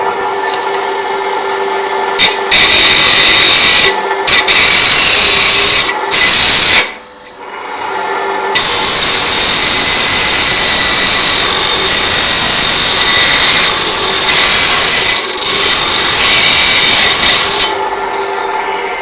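A power saw cutting a piece of material 5 inches long runs as a loud, sustained whine, briefly stopping and restarting several times with short gaps before grinding steadily through the cut.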